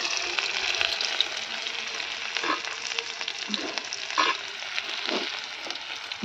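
Onions fry in hot oil in a wok with a loud, continuous crackling sizzle, and occasional stirring scrapes and clinks rise above it.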